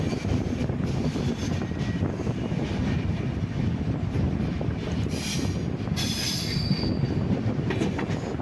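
A Kerala passenger train from Shoranur to Thiruvananthapuram rolls along the rails near Kottayam with a continuous heavy rumble, wheels squealing now and then, no voices.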